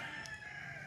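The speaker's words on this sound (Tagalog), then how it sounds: "puro manok lahat yan" Chickens and roosters on a chicken farm, a brief faint burst of fowl calls with a sustained crowing-like tone, distant and low in level, no talking.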